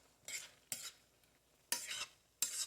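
Shrimp, zucchini and sauce cooking in a pan, heard as four separate bursts of scraping stirring and sizzle with quiet gaps between them, close and alone.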